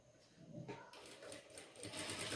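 Sewing machine stitching a pillow cover a quarter inch from the edge, a short burst of quick rhythmic needle chatter that speeds up and grows louder, fairly quiet overall with faint room noise.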